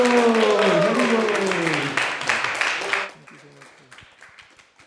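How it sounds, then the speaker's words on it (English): Devotee audience at a Krishna Katha gathering gives a big round of applause to welcome the speaker, with chanting voices over the clapping; the applause fades after about three seconds, leaving scattered claps. "Let's welcome His Grace Braj Mohan Prabhu with a big round of applause, ISV style."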